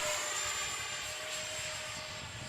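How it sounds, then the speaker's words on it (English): Twin 50mm electric ducted fans on an X-Fly Su-27 Flanker RC jet give a steady, high-pitched whooshing whine with a thin tonal edge, heard continuously and fairly close as the model flies past. "I think the twin 50mm fans sound great."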